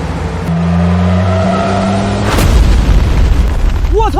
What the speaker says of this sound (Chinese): 刚刚山上有爆炸声